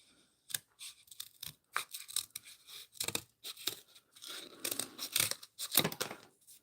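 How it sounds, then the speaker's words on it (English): Scissors cut through folded paper for a Christmas craft, giving a close, quiet series of irregular snips and rustles with short pauses between cuts. "I'm going to fold this like that and cut it out."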